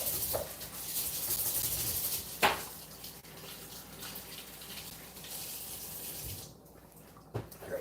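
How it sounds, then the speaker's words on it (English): Tap water runs steadily over a spatula being washed in a kitchen sink, with a few brief knocks and clatters as the utensil is handled, close by and with no voices. "We'll wash this spatula."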